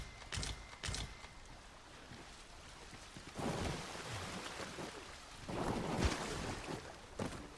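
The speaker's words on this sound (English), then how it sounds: "Water is seeping through the cracks." Water seeping and rushing through cracks in rock in Dragon's Dogma 2, a steady hissing wash that swells louder midway and again near the end, with a few sharper splashy bursts at the start.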